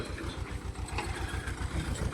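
Tractor engine running during groundnut sowing, a low, regular pulsing throb at idle-like pace, steady and fairly quiet throughout.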